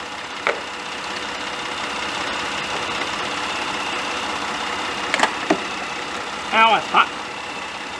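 A car engine idles steadily with the air conditioning running, a constant low drone with a few sharp clicks and clanks nearby while someone speaks briefly over it.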